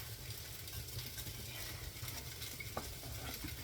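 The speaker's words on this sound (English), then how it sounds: "Stirring the scrambled eggs." Scrambled eggs stirred in a frying pan for an experimental breakfast, a soft continuous sizzle with gentle scraping and faint clicks of the utensil, quiet and steady, no voices.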